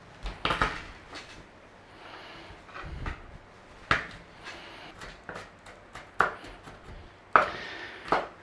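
A kitchen knife chops garlic into chunks on a cutting board for Chinese pepper steak: quiet, irregular single strokes and short bursts of sharp taps, with pauses between them and no talking.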